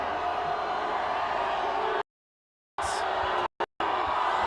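A large outdoor crowd roars and cheers at the Seahawks victory parade in Seattle, a steady loud wash of voices interrupted by brief dropouts.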